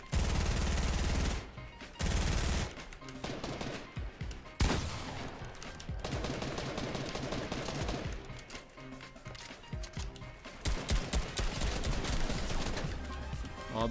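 Rapid automatic gunfire sprays in Fortnite during a battle royale endgame, with dense bursts of shots, short gaps and renewed volleys, loud and close throughout.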